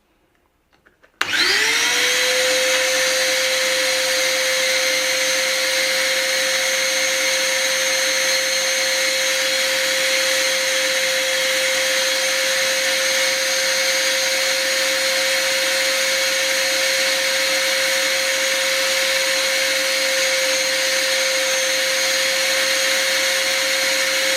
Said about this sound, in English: I'm going to just stick this stencil on once I turn the vacuum on